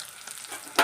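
Prawn curry ingredients frying in hot oil, a close, continuous sizzle with a brief louder burst of spitting near the end.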